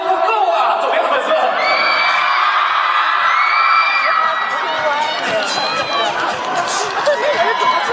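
Fans at a Beijing fan event cheer loudly and continuously, a dense wall of whoops and yells with a host's voice over the crowd.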